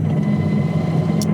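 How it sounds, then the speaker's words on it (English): Loud, steady low drone fills the cabin of a Czinger V Max hypercar on the road, a constant engine and road roar with no break in the moment. "I feel like I'm shouting just because, again, it's a very noisy car."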